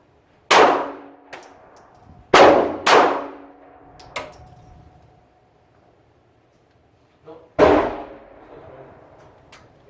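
A Taurus PT738 TCP pistol fires several sharp, loud shots in an uneven sequence, each crack ringing briefly before the next, with quiet gaps between them.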